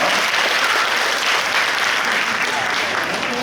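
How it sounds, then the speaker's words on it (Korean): A church congregation applauds parents at an outdoor worship service, a steady wash of many hands clapping, loud and continuous throughout with no pause. "사실 모든 부모님들께 드리는 박수입니다"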